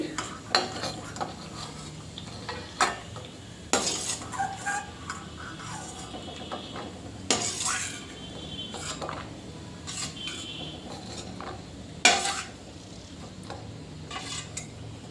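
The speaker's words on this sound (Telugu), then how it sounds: "చూడండి మొత్తం ఇట్లా వేయించుకొని పక్క పెట్టేద్దాం" Frying and stirring in ghee in a pan while making beetroot halwa, with a soft continuous sizzle under repeated sharp scrapes and clinks of a spoon against the pan.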